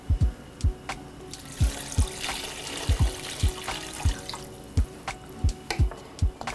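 Water pours into a stockpot holding white wine, bay leaves, fresh thyme, shrimp shells and a fish head for cioppino stock, with rapid close splashes and drips under a bright running trickle.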